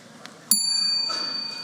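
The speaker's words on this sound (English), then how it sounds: "I'm about to ring the bell to warn members that a counted vote by Houses is" Warning bell rung in a synod chamber ahead of a counted vote by Houses, a single sharp metallic strike followed by a long ringing tone with steady overtones that slowly fades.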